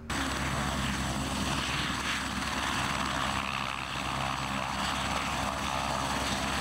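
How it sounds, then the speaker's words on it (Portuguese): A police helicopter on a New Year highway traffic operation roars steadily overhead, a loud, continuous rotor and engine drone filling the whole stretch without pause. "Um policial do trânsito vai embarcado no helicóptero para ajudar nessa fiscalização"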